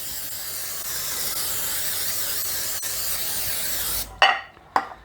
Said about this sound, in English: I've got a 9x13 cake pan I'm going to use. And I'm going to spray that pretty generously.